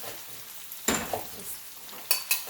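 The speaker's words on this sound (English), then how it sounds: "I'm gonna add some mixed veggies in it now." Mixed vegetables tossed into frying potatoes with sardines set off a quiet sizzle, punctuated by a few sharp clinks and scrapes of stirring, close by and without speech.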